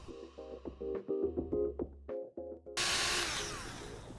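A Milwaukee polisher works on a car headlamp, starting with a steady whirring drone that suddenly becomes a louder, hissing buff partway through.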